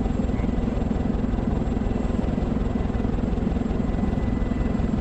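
A helicopter engine in a combat video game runs with a steady, dense rotor thrum and engine drone, loud and unbroken throughout, with no voices.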